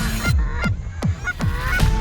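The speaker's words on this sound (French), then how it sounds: "il y a beaucoup d'oies qui tournent autour de nous" Geese circling overhead during a goose hunt in Sweden give repeated loud honks, four or five calls in quick succession against outdoor background.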